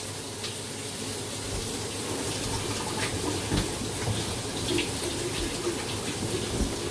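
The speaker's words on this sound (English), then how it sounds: "just gonna wash my hands," Hands are washed under a steady stream of running tap water in a kitchen, the flow a soft, continuous splash at moderate distance with faint clinks and no speech.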